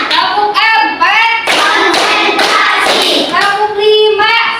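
A fourth-grade class claps in unison during a counting clap game, sharp group claps in short bursts alternating with children chanting together.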